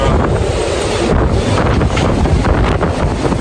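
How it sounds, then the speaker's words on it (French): Strong gale gusts batter a catamaran moored in a marina, a loud, continuous roar of wind buffeting the microphone, with rushing air and faint water noise beneath. "Là, ça souffle quand même fort là. Il y a des rafales assez violentes."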